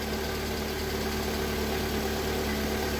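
Lada Priora engine idling after an oil flush, cold, with a steady close-up mechanical hum and faint rapid ticking running evenly through the short stretch.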